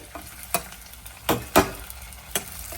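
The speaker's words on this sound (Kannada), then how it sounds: "ಫ್ರೈ ಮಾಡ್ಕೊತಾ ಇದ್ದೀನಿ ಸ್ವಲ್ಪ ಕೆಂಪು ಬಣ್ಣ ಬರ್ತಿದ್ದಂಗೆ" Frying in a pan, with a steady sizzle punctuated by several sharp scraping strokes of a spoon stirring the food, loud and close.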